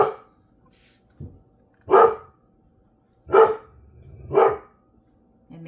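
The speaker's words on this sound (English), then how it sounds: "I think she's done barking" An indoor dog gives three loud, close barks spaced about a second apart, with a soft yip just before them and quiet between.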